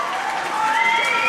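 Crowd at a girls' swimming sectionals meet applauding after a dive, a dense, even wash of clapping with a faint whistle-like tone rising through it.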